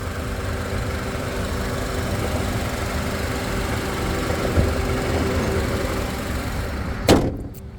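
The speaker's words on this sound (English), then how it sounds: "here is your little baby Honda motor" A 2006 Honda Element's small engine idles steadily at close range with an even, continuous hum, and a single sharp thump, likely a door or hatch, sounds near the end.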